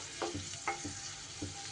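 Garlic cloves fry in hot oil with a steady soft sizzle, broken by a few sharp scraping stirs of a spatula against the pan, close and alone without any voices.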